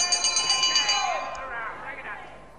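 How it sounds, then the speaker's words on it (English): A boxing ring bell rings out to end a round at a bout, a bright sustained metallic tone that decays slowly over a couple of seconds, with a faint second strike partway through. "A lovely turn by Wayne Bridges, right on the bell."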